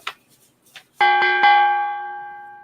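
Bell at a comic art auction struck three times in quick succession, bright ringing tones that hang and slowly fade, following a few faint soft knocks.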